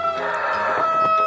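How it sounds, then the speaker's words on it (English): An Icelandic rooster crows loudly and close by, one sustained, strained call with a harsh, hoarse edge and a few clucks beneath it. "This is one of our Icelandic roosters playing king of the compost pile."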